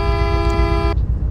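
A car horn in the Roblox game Greenville sounds one steady, loud, buzzy honk lasting just under a second, then cuts off abruptly.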